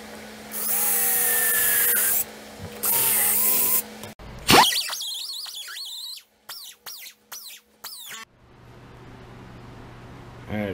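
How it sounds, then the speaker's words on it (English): A die grinder cutting into metal in a workshop, high whining bursts of grinding in several short passes, loud and close, separated by pauses and a brief clatter. "I'll just grind it off with a die grinder."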